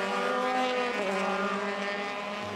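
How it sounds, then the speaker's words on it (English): A pack of Euroformula Open race cars at the Jerez circuit in Spain, heard as a sustained, strongly tonal engine whine that holds steady, then fades slightly toward the end. "So this gaggle of cars accelerating through."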